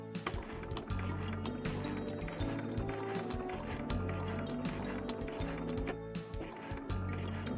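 A sewing machine topstitches along the edge of coat fabric at a relatively slow pace. The quiet, rapid mechanical chatter runs continuously, close up and without talk.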